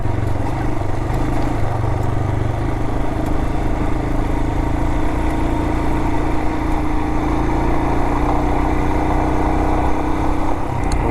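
A motorcycle engine drones steadily while riding over loose desert grit in the Mojave, a constant close mechanical hum with rumbling road noise and no talking.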